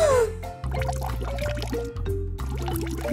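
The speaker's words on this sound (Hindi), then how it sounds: "अब थोड़ा पानी डालें।" Water poured into a colourful lava experiment mixture in a children's craft setting, a short close trickling pour heard over a low steady hum and background music.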